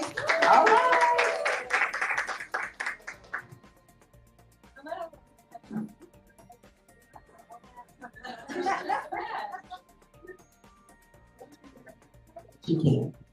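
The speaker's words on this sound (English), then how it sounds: "Clap, you guys." Audience at a live book event claps for a guest welcomed to the stage: a dense burst of applause for about three seconds, then scattered voices and talk with a few brief stray sounds.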